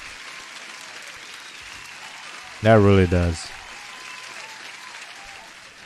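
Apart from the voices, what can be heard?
applause sound effect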